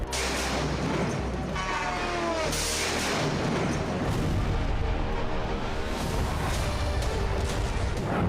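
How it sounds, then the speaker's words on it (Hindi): A dense, continuous roar of heavy rumbling and crackling, with repeated booming blasts from a drone strike in wartime Kyiv, loud throughout. "पार्किंग एरिया में एक ड्रोन गिरा, जिसके बाद जबरदस्त धमाका हुआ"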